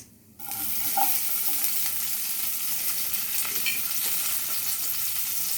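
Mustard seeds and onions fry in hot oil in a pan, a loud, steady sizzle that starts suddenly and keeps going with a few small pops.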